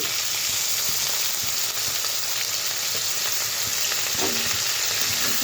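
Moringa drumsticks fry in a pan as chilli powder, sugar and spices are stirred in, a steady close sizzle with light stirring scrapes throughout.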